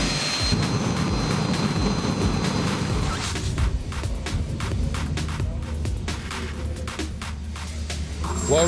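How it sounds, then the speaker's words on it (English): Home-built turbocharger-based jet engine burning kerosene powers a vehicle, giving a loud, continuous roaring rush with broadband hiss that stays steady throughout, up close. "these are all home-built jets, generally based around a turbocharger and running on kerosene"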